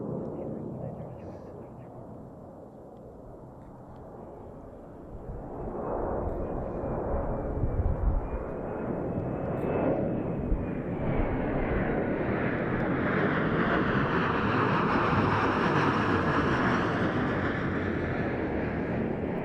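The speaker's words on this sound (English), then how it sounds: "We have a United E175 coming in. It's going to come over us pretty low." A United Embraer E175 jet airliner roars in on arrival and passes low overhead, its engine noise swelling from a distant rumble to a loud whining roar, with someone talking underneath.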